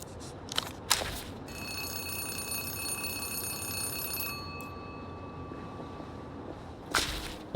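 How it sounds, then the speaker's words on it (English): A telephone rings in the video game Zero Parades for Dead Spies, a sustained electronic bell tone lasting a few seconds, bracketed by sharp snapping cracks before and after. "As you turn away, a phone begins to ring."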